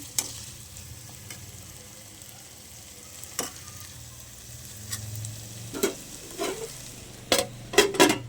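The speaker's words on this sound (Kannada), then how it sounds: "ಎಲ್ಲ ತರಕಾರಿ ಬೀನ್ಸು, ಕ್ಯಾರೆಟು, ಆಲೂಗಡ್ಡೆ ಸಣ್ಣದಾಗಿ ಹಚ್ಕೊಂಡಿರ್ತೀವಲ್ಲ ಅದನ್ನೆಲ್ಲ ಹಾಕಿ ಎಣ್ಣೆಲೆ ಫ್ರೈ ಮಾಡ್ಕೊಳ್ಳೋಣ" Finely chopped beans, carrot and potato fry in oil with a low, steady sizzle, while sharp spoon scrapes against the pan come more often toward the end. No voices are heard.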